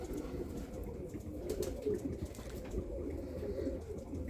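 A Birmingham Roller pigeon hen coos softly in a loft, low murmuring calls blended with faint background bird noise, no talk.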